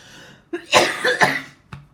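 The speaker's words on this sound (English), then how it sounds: "I keep coughing and I don't know what it's about." Several harsh coughs close to the mic, a short burst followed by a couple of strong coughs and a final smaller one.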